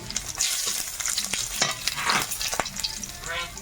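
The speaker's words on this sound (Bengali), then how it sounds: "তেলের মধ্যে শুকনো লঙ্কা দিলাম একটু গোটা জিরে" Whole spices crackle and sizzle steadily in hot oil, with sharp pops and occasional scraping as they are stirred close by.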